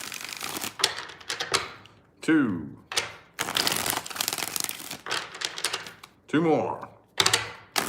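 Tarot cards riffled in a series of crisp, rapid shuffling bursts, each a second or so long with short pauses between, close and fairly loud, while a voice counts and talks between the shuffles.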